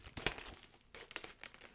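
Crinkly rustling and tearing of the OnePlus 8 Pro box packaging as its open tab is pulled, a few quick close bursts of crumpling.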